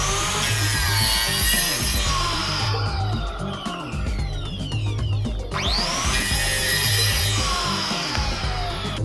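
Cutting and trimming the sides of a foam piece with a homemade hot-wire foam cutter, giving a steady rubbing, sawing-like sound that continues loud and close without speech.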